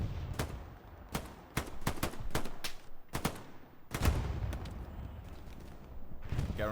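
Gunshots ring out across a battlefield in Hell Let Loose, sharp cracks and rapid bursts from rifles and machine guns at varying distances, some close and loud, others echoing farther off.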